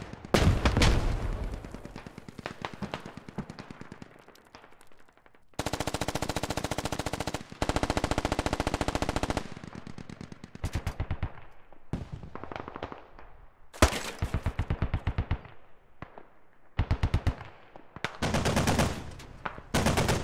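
Video game Squad gunfire on Al Basrah: bursts of automatic rifle and machine-gun fire, some sustained, some sharp single shots, loud and repeated in uneven clusters with near and distant reports.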